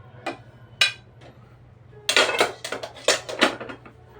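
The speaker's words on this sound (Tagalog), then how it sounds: "Sandok muna tayo ng kanin guys." A ladle knocks and scrapes against a metal pot while cooked rice is scooped out: two isolated clinks, a short pause, then a quicker cluster of clattering taps close by.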